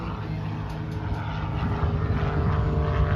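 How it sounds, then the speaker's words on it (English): Propeller airplane passing at the First State Airshow at Dover Air Force Base, Delaware, a loud steady engine drone with churning prop buzz that swells slightly as it goes by, no talk. "He's flying that airplane sideways."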